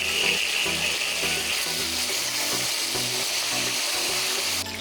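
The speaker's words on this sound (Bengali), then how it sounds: "মাছটার দুটো সাইড আমি সুন্দরভাবে লাইট ব্রাউন কালার অবধি ভেজে নিয়েছি" Fish frying in hot oil in a wok, a continuous loud sizzle and crackle that hisses steadily throughout, close up, with no talk.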